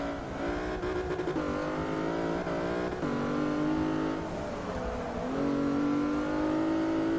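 Race car engines in the Forza 6 video game, with the Plymouth Prowler among them: continuous high-pitched revving that climbs and drops through gear shifts, loud and steady across the whole stretch.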